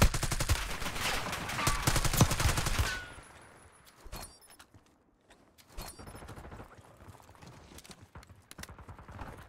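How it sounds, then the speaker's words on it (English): Gunfire in Warzone: a loud rapid automatic burst for about three seconds, followed by scattered sharper single shots and quieter distant pops. "Getting shot from the building."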